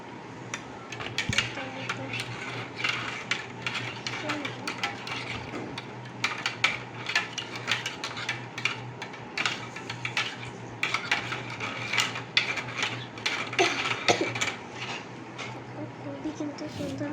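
Spoon scraping and clinking against a dish while cooking at home, a busy run of quick metallic taps and scrapes repeating throughout, close and fairly loud under a faint steady hum.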